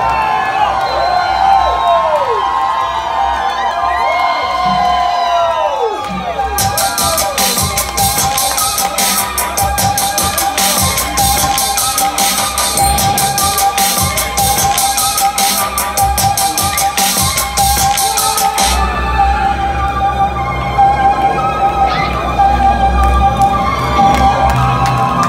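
At a concert a large crowd cheers and screams continuously, loud and close. Shouts and whoops rise over the roar, with a burst of rapid noise in the middle and voices amid the din.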